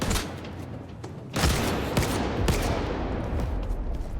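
Enemy gunfire in S.T.A.L.K.E.R. 2 aimed at the player, a steady mix of rapid shots and loud sharp cracks with heavy bursts and thuds close by, no talking.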